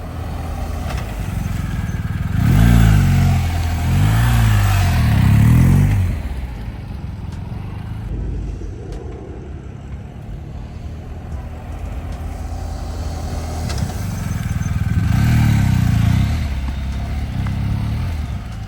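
A motorcycle engine drones and revs as it rides past from side to side, swelling loud twice with a quieter steady running stretch between, and no voices over it.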